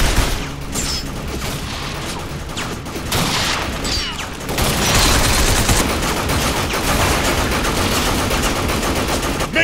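Sustained heavy gunfire from the Binary Domain video game, a continuous loud barrage of automatic weapons fire that swells louder midway and keeps pounding without pause.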